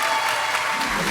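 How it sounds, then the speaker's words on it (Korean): Audience applause at a live talk event featuring a YouTuber, a dense, steady wash of clapping from the crowd filling the brief moment, fairly close and uniform throughout. "박수로 한번 청해 보겠습니다"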